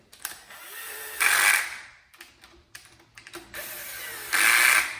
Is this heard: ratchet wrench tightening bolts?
yes